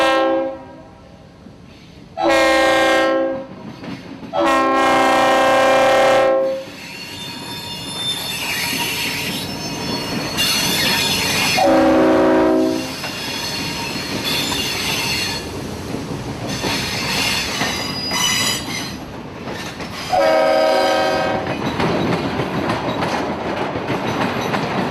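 A CSX local freight train hauling large chip hopper cars approaches a railroad diamond crossing with the Georgia-Florida Railroad, blasting several loud horn calls over a steady rumble and squealing wheels throughout.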